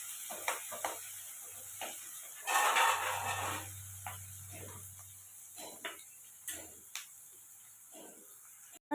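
Onions cooking in a pan for a cauliflower palya, a soft sizzle under intermittent stirring clicks and scrapes, close and quiet, with a brief louder burst of sizzling.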